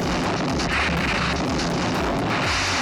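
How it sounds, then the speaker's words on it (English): A bomb blast destroys a German submarine in the 1971 film Murphy's War, heard as a dense, loud, continuous rumbling roar crackling with debris throughout. "dozens of German soldiers were all killed in the explosion, and Jimmy's plane also lost power due to the blast"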